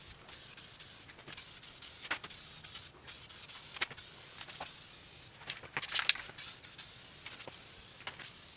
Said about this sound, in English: So now I'm going to hit it with the final top coat of flat black.